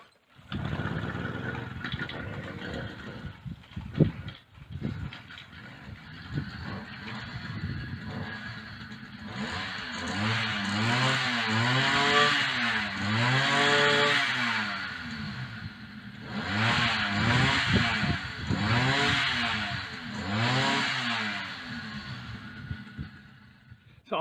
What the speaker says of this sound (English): it's revving a lot higher than it was before